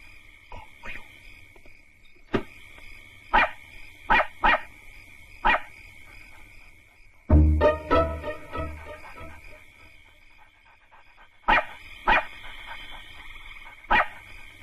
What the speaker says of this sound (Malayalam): ലില്ലിക്കുട്ടി വല്ലാതെ കിടന്ന് കുരയ്ക്കുന്നു.